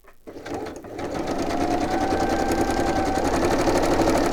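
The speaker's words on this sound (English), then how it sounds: "And then we just need to stitch down our sides." Sewing machine stitching down the sides of a piece of fabric, running steadily and close by with a fast, even mechanical rhythm that starts up quickly and holds for several seconds, loud and alone with no voices.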